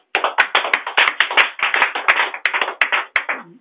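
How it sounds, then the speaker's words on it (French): A church congregation claps in unison, a loud and steady rhythmic beat that carries on for several seconds of worship without any other sound. "On acclame le Seigneur Jésus"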